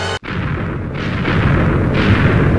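TNT cannons fire in a pirate-ship video game, a loud continuous booming roar after a brief cut, swelling in two waves, with no talk over it.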